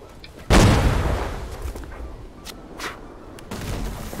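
Heavy ship cannon fire in a naval battle video game: a loud booming blast with a long rumbling tail, then smaller distant thuds and another rolling boom near the end.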